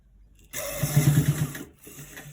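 A sewing machine runs briefly up close, stitching shut the opening of a fabric collar roll in one short, even burst that stops abruptly.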